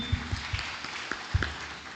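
Audience clapping at a church service, applauding a bishop and a senator: a steady wash of hands with a few soft low thumps scattered through, fairly even in loudness, with no talking over it.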